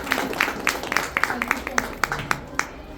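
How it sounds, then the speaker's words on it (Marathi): Applause at a school gathering in Satara, a crowd clapping in bursts of sharp claps spread across the moment, fairly steady but not dense, with background room noise. "त्यांच्यासाठी जोरदार टाळ्या झाल्या पाहिजे"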